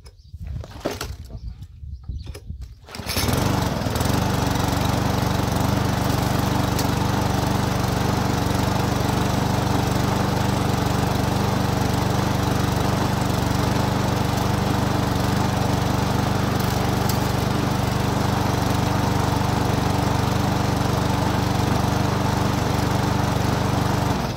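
A small lawn mower or brush cutter engine starts after a few seconds of quiet handling noise, then runs at a steady, loud, close drone that continues to the end.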